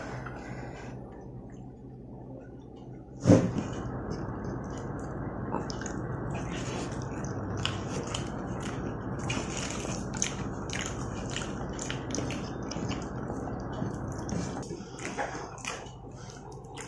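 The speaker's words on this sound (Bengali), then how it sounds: "আমিও এবার খাবো।" Someone eating a plate of rice at home, with soft, wet chewing and squishing sounds repeating steadily up close over a low room hum, starting after a sharp knock.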